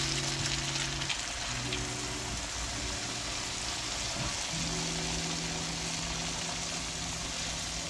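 Beer poured over sea bass (robalo) frying in a pan gives a steady, dense sizzle and crackle, close and continuous, with faint low tones underneath.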